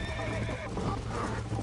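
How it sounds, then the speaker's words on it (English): A horse whinnies over rapid hoofbeats in a video game, with a low rumbling bed of game-style background sound underneath. "I think you chose the wrong horse, Miss McFarland."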